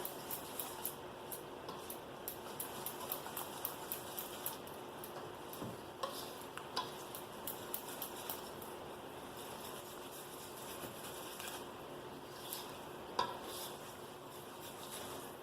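Batter being stirred as flour is worked into an eggless fluffy pancake mix, a steady soft scraping and tapping of a utensil against the bowl, close and continuous for the whole stretch with no talking.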